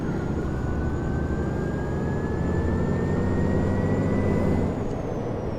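A MAN Lion's City city bus engine in the OMSI 2 driving simulator, set on Hamburg route 688, runs as a steady, loud drone with a slowly rising whine throughout, with no talk over it.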